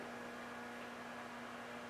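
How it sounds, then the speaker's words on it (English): Heating coils in a Raspberry Pi controlled kiln give off a steady, low electrical hum with a faint hiss over it. The sound stays even and unbroken, quiet and close, with no voices. "you can actually hear the heating coils in there"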